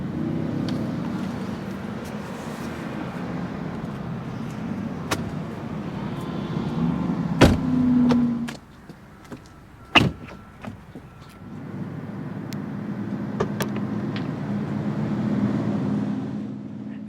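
A powered liftgate on a Mercedes-Benz S65 AMG S-Class coupe opens with a steady electric motor whir. Sharp clicks and a latch clunk break in midway, then the motor hum resumes and holds close and moderately loud.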